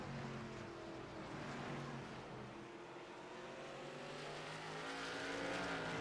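Stock cars racing around an oval track at the Southern National 200, a steady distant roar of engines blending into a continuous broadband wash with slowly shifting pitch, no voices.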